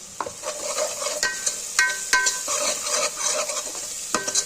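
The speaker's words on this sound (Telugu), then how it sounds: "వేసేసుకొని ఒకసారి బాగా కలిపేసుకోవాలి." Ginger paste being stirred into a curry in a pan for chapala kura, a fish curry: a spoon scrapes and knocks in irregular strokes over a soft background sizzle, close by and with no talking.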